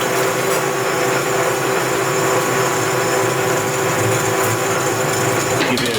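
A machine spindle runs under feed while machining a crusher part, a loud steady whine with a constant tonal hum and grinding texture, with a brief clatter near the end.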